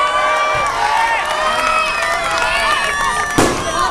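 Fireworks at a political rally during Maharashtra's assembly election campaign crackle over a loud, cheering crowd, with one sharp burst standing out near the end.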